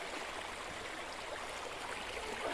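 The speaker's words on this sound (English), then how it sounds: "This, guys, nice running river." A river runs steadily at a rocky spring, giving an even, broad rushing wash of water from start to finish with no voices.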